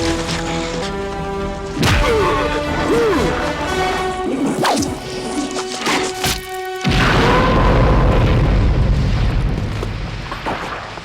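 A loud, dense action-film battle mix from a Rambo fight scene, with booming explosions and crashing impacts over a sustained musical score, including a heavy blast near the middle and another burst later on.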